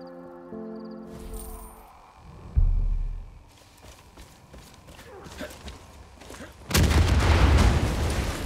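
Explosions go off in the video game Far Cry 5. Two loud booms land a few seconds apart with rumbling aftermath, and quieter scattered thuds and movement noises fill the gaps between them.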